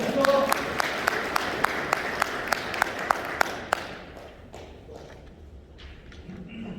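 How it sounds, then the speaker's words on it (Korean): Slow, sparse clapping at a Seoul Milk Ansan factory labor union election rally for a union chairman candidate: about a dozen evenly spaced sharp claps that stop, leaving quiet room noise. "강경하신 위원장 김병식 후보자에게 뜨거운 박수를 부탁드립니다."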